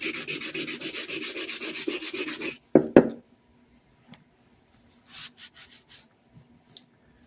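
A wooden hammer handle is sanded by hand with rapid, rhythmic back-and-forth rubbing for a few seconds. A couple of knocks follow, then quiet handling sounds.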